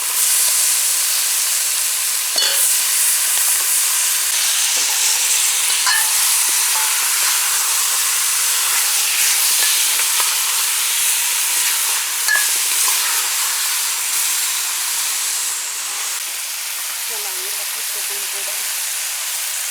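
Beef frying in a curry pot, a loud continuous hiss and sizzle of steam with occasional stirring scrapes, while a person speaks faintly over it.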